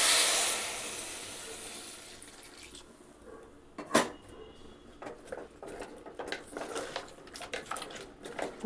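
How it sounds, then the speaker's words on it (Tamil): Water splashes and patters into a pressure cooker of mango sambar, with a brief rushing pour near the start and scattered drips and clinks afterward, fairly close. "இப்போ இதில் நான் தண்ணி கொஞ்சமாக சேர்த்துக்கிறேன்"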